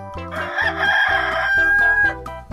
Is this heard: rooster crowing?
yes